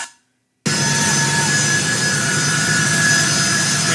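An airplane's jet engine roars in as the plane starts moving, a loud, steady, close whine and rumble kicking in abruptly after a brief silence and holding throughout.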